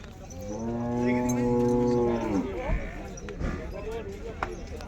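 A buffalo at a village livestock sale lets out one long, loud, low moo lasting a couple of seconds. Afterward come background voices and scattered thumps.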